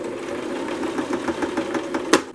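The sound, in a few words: domestic sewing machine sewing rope cording onto a cushion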